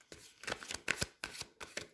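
Tarot cards being shuffled and dealt out on a table, a quick series of soft, close flicking and slapping card sounds in an uneven rhythm, quiet and with no speech.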